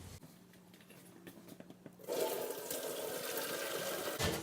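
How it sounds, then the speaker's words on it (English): Vegetarian pho broth pours through a colander into a second pot, a sudden loud gushing rush that starts after a quiet moment and keeps flowing steadily for the rest of the clip. "let's carefully take this broth and put it into pot number 2."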